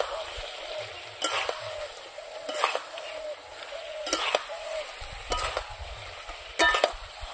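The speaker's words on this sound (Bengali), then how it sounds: "এখন আমি ভাজা করা মাছগুলো দিয়ে দেবো।" Fried latha fish dropped into spices sizzling in a pan for a village-style curry, a steady frying hiss broken by several sharp scraping stirs of a spatula against the pan at a slow, regular pace.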